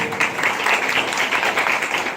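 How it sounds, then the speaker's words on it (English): Kindergarten children receive a short burst of steady applause from a group, with dense, even clapping throughout and a little background voice underneath. "a huge round of applause for them"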